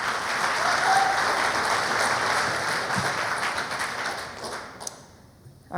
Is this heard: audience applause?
yes